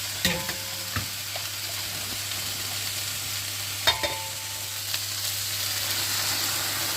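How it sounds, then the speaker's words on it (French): Onion, garlic and shallots fry in a wok with a steady, close sizzle throughout, broken by a few sharp clicks and clatters of stirring. "on va faire revenir un oignon, de l'ail, des échalotes dans le wok."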